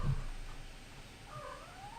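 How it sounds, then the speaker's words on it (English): House cat giving a faint, drawn-out meow with a rising and falling tone, heard indoors at low volume against a quiet background hum, with no one speaking. "We got a kitty cat."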